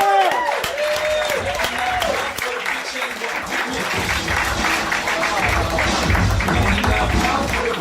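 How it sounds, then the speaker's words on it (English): Comedy club audience applauds a comedian introduced as one half of the Cum Town podcast, a dense, steady roar of clapping with cheers filling the room, a voice carrying over the start. "Clap it up, let's get for Nick Mullen."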